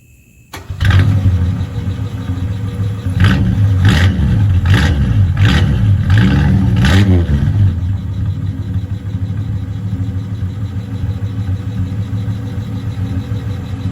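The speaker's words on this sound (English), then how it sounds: "This is a cold startup on my 1962 Ford Fairlane inline 170 custom exhaust." A 1962 Ford Fairlane with an inline 170 engine and custom exhaust cold-starts with a quick crank and catch, then blips its throttle about five times in loud rising revs before settling into a steady rumbling idle.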